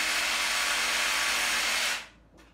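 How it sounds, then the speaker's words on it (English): A reciprocating saw cutting into a drywall ceiling makes a loud, steady buzzing cut for two seconds, then stops abruptly, leaving a brief fainter burst and quiet. "Always good to have a sawzall."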